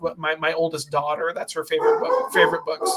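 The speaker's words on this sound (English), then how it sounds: "so you can hear the pupper barking." A pet dog barks and yips in a home while someone talks over it, the short sharp barks mixed in under his steady, close speech.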